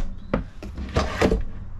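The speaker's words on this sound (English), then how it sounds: "underneath, as far as storage, you have these soft closed doors." Soft-close cabinet doors under a travel trailer counter shut with a few muffled, cushioned thumps and faint rattles, close by and without any slam.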